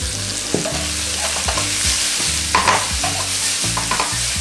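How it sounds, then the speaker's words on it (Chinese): Shredded potatoes are stir-fried in a hot wok, with steady loud sizzling and repeated rhythmic scraping strokes of the spatula tossing them; no talking. "我们就可以放入我们的马铃薯丝，丢进去炒"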